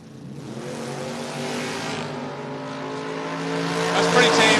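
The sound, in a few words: Focarino's Monte Carlo drag race car launching down the track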